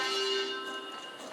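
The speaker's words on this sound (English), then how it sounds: "There's the bell." A church bell rings once with a clear, sustained tone that fades over about a second, heard at a moderate distance in a quiet pottery workshop.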